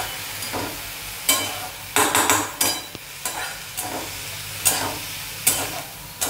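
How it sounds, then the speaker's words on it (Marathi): Onion, garlic and green chilli tempering for a radish-leaf bhaji is stirred in a pan, giving a steady frying sizzle broken by several sharp scraping clanks of the spoon against the metal, close and alone. "ह्याचे हलवून घेऊया आपण आता।"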